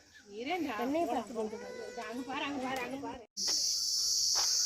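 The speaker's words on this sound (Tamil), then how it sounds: "அது என்னன்னா பூச்சி சவுண்டு." Insects chirp in the forest at Kurumbapatti zoo, a steady high-pitched shrill. It sits faintly under animated talk for the first few seconds, then rings out clearly on its own after a brief silence.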